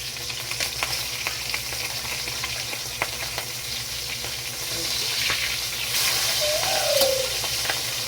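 Ham sizzling in cooking oil in a pan, a steady crackling fry with scattered pops, moderately close, while pigeons coo faintly in the background and the sizzle swells louder toward the end.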